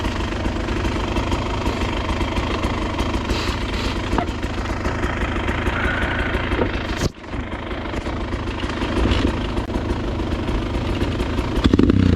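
A Beta 300 RR dirt bike engine runs steadily at close range on a trail, a throaty continuous rumble with slight revving and one brief dip midway.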